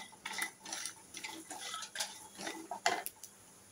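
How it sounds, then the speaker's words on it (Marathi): Cloves, stone flower and sesame being dry-roasted in a pan over a low flame, with soft scraping and clinks of a spoon against the pan in short irregular bursts, close and fairly quiet, no talking. "मंद गॅसवर हे सगळं भाजून घेते। तर आता असं परतून घेते आणि भाजून घेते असं।"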